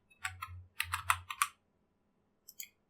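Fingers type on a computer keyboard: a quick run of crisp clicking keystrokes for about a second and a half, a pause, then two more taps, close and fairly quiet.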